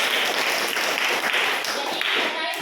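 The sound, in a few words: applause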